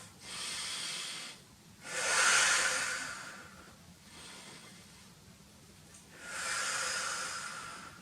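Slow, hissing breaths during a beginner Pilates exercise: air drawn in through the nose, then longer, airy exhales through the mouth, repeating in a steady rhythm of soft bursts separated by brief quiet pauses.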